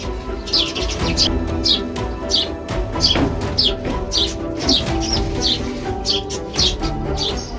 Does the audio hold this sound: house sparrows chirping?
yes